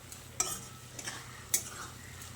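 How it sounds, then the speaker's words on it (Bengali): Banana flower curry being stirred after tomato ketchup goes in: quiet spoon scrapes with two brief clinks against the pan over a low, faint background. "টমেটো কেচাপটা দিয়ে আবারও ভালো করে নেড়েচেড়ে মিশিয়ে নিচ্ছি।"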